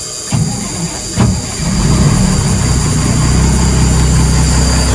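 A Ford L9000 truck's L10 Cummins diesel engine runs at a heavy low idle, with two sharp throttle blips early on before settling into a steady, loud, close rumble.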